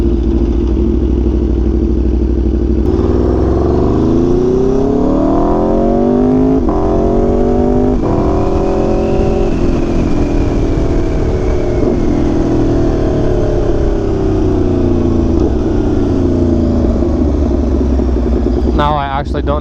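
A nearly new motorcycle with under 900 miles and recurring problems, its engine running loud and close, with repeated rising and falling revs that sweep up and down in pitch and a faint mechanical clatter throughout.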